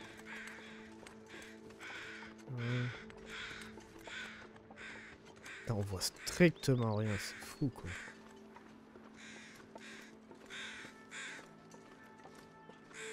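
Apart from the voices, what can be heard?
crows cawing near wolf, The Long Dark video game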